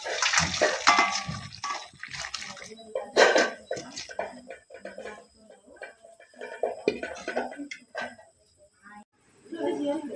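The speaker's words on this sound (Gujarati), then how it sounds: "જુઓ મિત્રો, આપણા બટેટા બફાઈ ગયા છે। હવે આમાંથી પાણી કાઢી લઈશું।" Water is poured off boiled potatoes for dum aloo, splashing in short bursts under intermittent talk.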